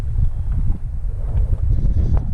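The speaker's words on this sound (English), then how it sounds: "the wind's blowing that way" Wind blowing across a microphone in the Alaskan wilderness, a steady low rumbling buffet with gusty fluctuations filling the whole moment, no other sounds standing out.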